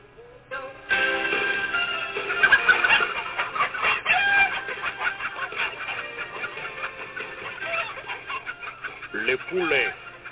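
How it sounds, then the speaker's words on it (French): Chickens cluck and squawk in a busy, overlapping chorus, loud and close, with a rooster-like call mixed in. "Nous avons les meilleurs poulets."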